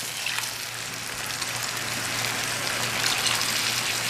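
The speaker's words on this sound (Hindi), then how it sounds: "अब मैं इसमें 1 कप पानी शामिल करूंगा" Water pours steadily into frying chana dal in a pan, a continuous hissing, gushing wash that grows slightly louder, over a low steady hum, with no voices.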